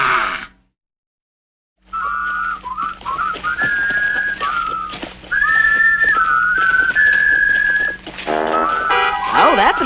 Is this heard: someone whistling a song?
yes